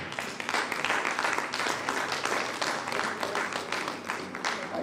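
Audience at an innovation awards showcase clapping for a company director, moderately loud, steady dense clapping from many hands, sustained with slight swells.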